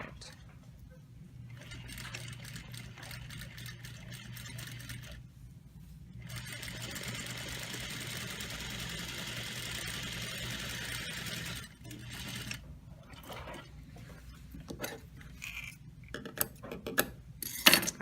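A sewing machine stitches around a welt pocket in steady whirring runs, with pauses between passes and small clicks and handling noises, quiet and close, with a voice talking over parts of it.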